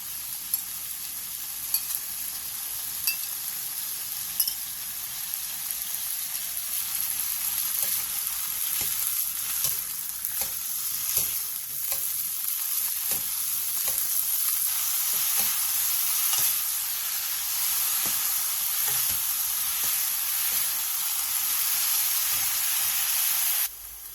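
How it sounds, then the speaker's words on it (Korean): Drained bellflower root is stir-fried in an oiled pan with minced garlic, salt and a little water over medium heat, making a long, even hiss of sizzle and steam with light scattered stirring ticks, close and steady. "팬에 기름을 두른 뒤 물기를 뺀 도라지, 다진 마늘 1스푼, 소금 3분의 1스푼, 물 7스푼을 넣고 중불에서 2분에서 3분 정도 볶아주세요."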